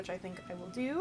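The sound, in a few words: cat meowing in the background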